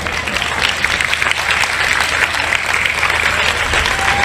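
Sustained audience applause at a Hindi-language religious debate event, a dense steady patter of many hands clapping at close range for the whole stretch with no break.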